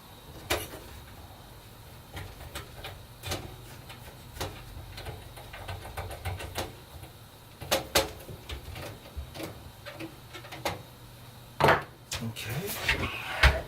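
Screws being driven down against the I/O shield of a gaming PC build on an Asus Z170 Pro Gaming Aura motherboard, giving scattered sharp clicks and small metallic knocks at close range over a low steady hum.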